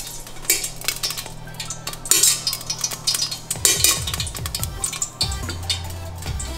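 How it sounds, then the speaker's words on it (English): Three popcorn kernels drop into a pan with coconut oil, producing a run of close metallic clinks, rattles and pan knocks that come in bursts over a few seconds. "You want to add 3 kernels to your pan."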